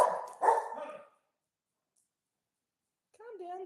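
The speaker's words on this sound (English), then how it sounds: "Calm down, silly dog." A dog at a vineyard barks twice in quick succession, loud and close, then falls silent before a person starts speaking.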